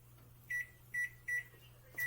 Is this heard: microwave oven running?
yes